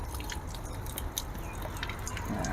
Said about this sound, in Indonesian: ini akan saya siram dengan kocor basah total